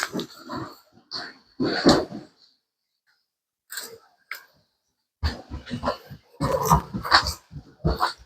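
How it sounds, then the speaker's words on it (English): Pet dogs nearby snuffling, sniffing and giving short grunts and snorts in scattered bursts with quiet pauses between them, inside a room. "My doggies just came down here."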